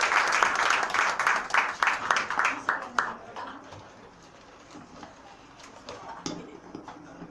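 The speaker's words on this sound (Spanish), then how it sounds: "un gran aplauso para ellos que nos acompañan" Applause from an audience at a poetry tribute event, a dense patter of clapping that rings out for about three seconds and then fades, leaving a quieter room with faint stray sounds.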